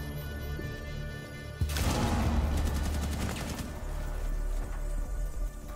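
Rapid automatic gunfire erupts in a ranked Rainbow Six Siege match after a quiet opening, loud sustained bursts of shots that keep going to the end.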